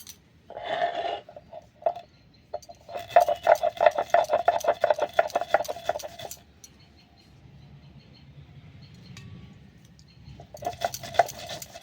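Spices and pieces of ginger being ground into a paste: bursts of rhythmic rattling and clattering, loud and close, separated by quieter pauses with a low rumble.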